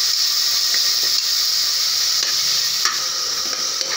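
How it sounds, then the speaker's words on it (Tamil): Tomatoes, garlic and onion sizzle in a pan while being stirred, a loud, close, continuous hiss of frying with faint scraping strokes of a utensil breaking through now and then. "மூணு தக்காளி பழம், வெள்ளைப்பூண்டு, வெங்காயம் எல்லாம் போட்டுருவோம். இப்போ அதை நல்லா கிண்டி விடுங்க."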